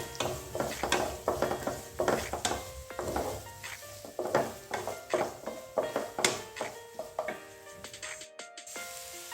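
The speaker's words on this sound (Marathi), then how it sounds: "आणि एक मोठा बारीक चिरलेला कांदा इथे मी ॲड करते परतून घ्यायचं आहे" Finely chopped onion and curry leaves sautéing in a pan, a soft sizzle under rhythmic spatula strokes scraping and tapping the metal, close and steady, stopping just before the end.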